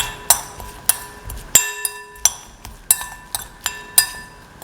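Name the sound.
mixing ginger and garlic in a bowl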